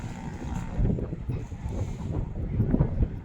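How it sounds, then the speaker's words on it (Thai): Dry wind buffets an outdoor stage at a mor lam folk music show in Thailand, a steady rough rumble of gusts over the microphone that runs the whole time without pause, close and fairly loud. "ลมแห้งคักพี่น้อง"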